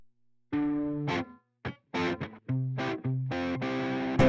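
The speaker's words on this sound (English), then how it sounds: "And delay and reverb on the rhythms." Rhythm guitar runs through delay and reverb effects, playing short separate strummed chords with gaps of silence between them, each chord ringing out with a smeared, echoing tail.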